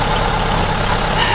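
A vintage Mercedes car engine idles steadily at a car meet, a continuous, close, loud low rumble with no talk over it.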